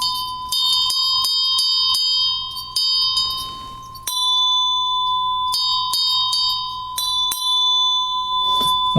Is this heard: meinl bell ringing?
yes